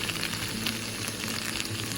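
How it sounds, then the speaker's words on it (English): Steady, dense sizzling of potatoes and onions frying in a hot pan, a constant crackle and hiss throughout with no voices. "there's just something about the sound of those potatoes getting fried"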